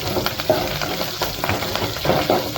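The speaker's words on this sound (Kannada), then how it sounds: "ತುಪ್ಪ ಹಾಕ್ಬಿಟ್ಟು ಬೆಳ್ಳುಳ್ಳಿನ ಸ್ವಲ್ಪ ನೀಟಾಗಿ ಫ್ರೈ ಮಾಡ್ಕೊಳ್ಳಿ" Garlic fries in hot ghee for a tempering, with curry leaves, for bisibele bath: a loud, steady sizzle broken by scraping stirs and occasional spatters.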